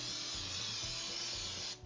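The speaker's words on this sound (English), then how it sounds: "So I'm going to go ahead and slightly spray" Cooking spray misted lightly onto a loaf pan, one short continuous close hiss lasting under two seconds before cutting off.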